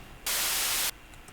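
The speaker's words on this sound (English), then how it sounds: "Here it is with the white noise hitting on the impact." A loud burst of white noise layered onto an impact hit in a future bass music production, switching on abruptly and cutting off after about half a second, with low hum and faint ticks around it.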